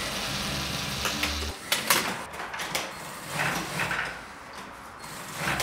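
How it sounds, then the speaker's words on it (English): Industrial single needle sewing machines running in a busy garment factory, with a brief low motor hum early on, then scattered clicks, clatter and workshop noise at moderate distance, no speech. "These are the single needle machines. We use them all the time, you know, because every garment has single needle stitching on it."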